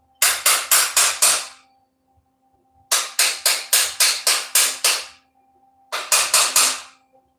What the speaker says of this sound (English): I find my other little hammer.